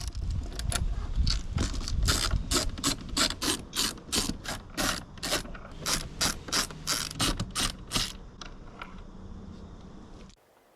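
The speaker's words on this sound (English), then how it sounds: "there are 5 T15 Torx screws that need to come out so that we can remove the mirror" A ratchet backs out five T15 Torx screws from the mirror backing shroud of a Chevy/GMC HD truck, its rapid pawl clicking in steady close bursts with short pauses between screws, no talking.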